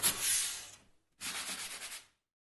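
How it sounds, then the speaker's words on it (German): A sanding block rubs across the drilled playing surface of a wooden snare cajon in two separate passes, each a close, soft, scratchy scrubbing stroke with a short pause between them. "falls da noch so kleine Späne überstehen, kann man das mit dem Schleifklotz hier ein bisschen wegschleifen"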